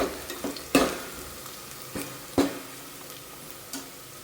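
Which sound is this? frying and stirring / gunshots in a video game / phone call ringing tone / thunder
frying and stirring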